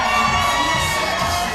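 A wrestling crowd at a live event in Miami roars, cheers and shouts together in a dense, loud, continuous wall of voices that fills the whole moment.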